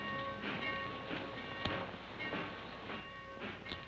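A train running on its rails, with a rolling rumble and rhythmic clatter of the cars, moderately loud and steady, plus a brief sharper knock partway through and no talking.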